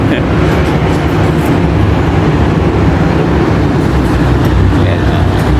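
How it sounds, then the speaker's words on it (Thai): Elevated skytrain running over the Phra Khanong canal along Sukhumvit, a loud steady rolling rumble with rail clatter throughout, continuous and close. "รถไฟวิ่งแป๊บเดียวนะครับทุกคน"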